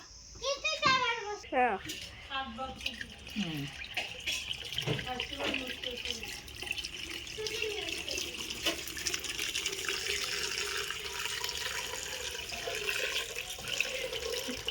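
Water runs from a tap into a container during dishwashing, a steady close splashing flow that continues throughout while a voice and other speech are heard over it.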